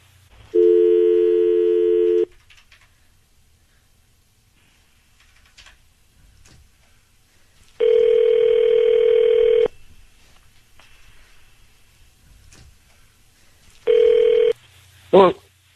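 A telephone call rings out in a phone-line tone heard three times, each a loud steady burst with silent gaps between them, followed by a brief rising chirp at the end.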